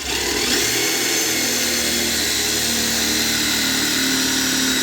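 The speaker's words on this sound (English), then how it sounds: "Go ahead and drill this one." A steady, loud mechanical whine of a power drill drilling into a board, running continuously with a broad noisy hum and no pauses, close by.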